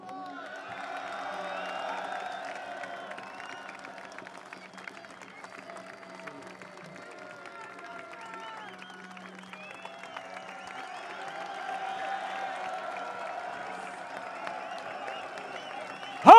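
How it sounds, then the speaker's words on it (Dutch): A large crowd at a march murmurs with scattered clapping and faint cheering throughout, loud chatter rising and falling, ending in a sudden sharp bang. "dat ze een warm applaus geeft"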